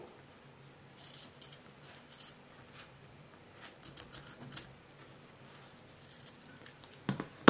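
Scissors snipping fabric in short, quiet clusters of cuts, close to the mic with pauses between bursts.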